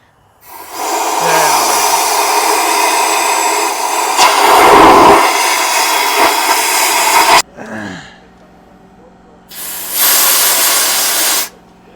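Compressed air hisses loudly in long steady bursts, blowing fuel out of the cylinders of a Peterbilt pull truck's engine during an injector swap, with a short break before another burst.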